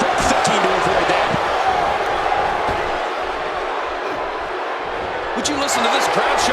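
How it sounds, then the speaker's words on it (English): A video-game arena crowd in WWE 2K17 roars and cheers steadily as a loud wash of noise, with commentary talking over it and sharper bursts near the end. "Would you listen to this crowd show their appreciation for these amazing competitors?"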